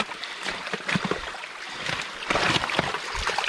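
Water splashing and trickling out through a beaver dam outdoors, a steady broadband wash with a few sloshing surges, moderately close and alone.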